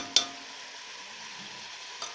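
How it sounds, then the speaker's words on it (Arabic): Onions and canned tomatoes fry in a pan. A faint, steady sizzle carries on throughout, with a sharp utensil click near the start and a softer one near the end. "ونقليه، نقليه مليح قبل اللحم مع البصل"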